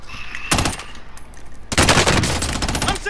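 Rapid bursts of automatic gunfire in a first-person shooter, Black Ops 3, crackle in two loud volleys, a short one and then a longer sustained stream.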